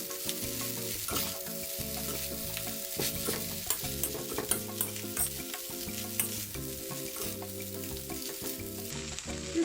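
Spaghetti stir-fried in a pan, a steady sizzle with repeated scraping and stirring clatter throughout, close and fairly loud, with light music underneath and no talk.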